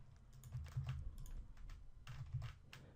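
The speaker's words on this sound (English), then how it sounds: "we're going to type the address of our website there" Soft, close keystrokes on a computer keyboard as a website address is entered, a quick irregular patter in two short runs with no voices.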